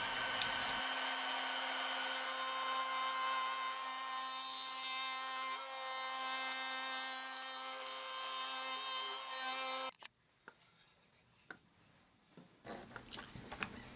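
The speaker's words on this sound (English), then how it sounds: "I use a rabbet bit with a bearing for a half inch depth." A router with a bearing-guided rabbet bit cuts into barn board with a loud, steady high-pitched whine for about ten seconds, then stops, leaving faint knocks and handling noises.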